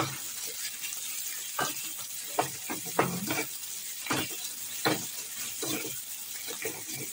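Fish eggs frying in a pan with tomato added, a steady close sizzle broken by several stirring scrapes and crackling bursts, moderately loud and without talking.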